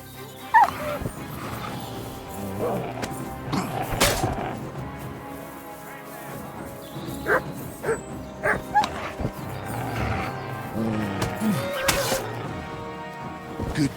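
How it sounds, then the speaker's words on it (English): A dog in a video game barks several times in short, sharp bursts spread across the clip, amid game sounds and a little talk. "You're a good dog, Matt."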